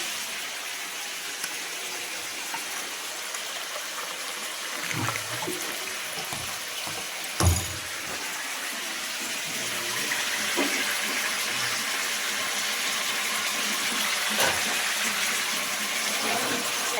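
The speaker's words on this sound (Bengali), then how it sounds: "তারপরে মাছের ঝোলের জন্য জল ঢেলে দিচ্ছি" Water pours into a pan for a fish curry, a soft, steady splashing gush under a background of kitchen hiss, with a couple of brief knocks and clatters along the way.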